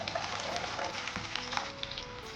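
Three medium chopped onions hit four tablespoons of hot oil and give a soft, steady sizzle, fairly quiet and close, with small crackles scattered through it.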